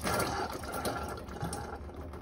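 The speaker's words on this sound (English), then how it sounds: "you may hear the water cooler starting to refill with more water so that it can dispense correctly" An Avalon A9-2 water cooler refills its reservoir with a steady, close watery trickle and hiss of inflowing water, continuous throughout without any talk.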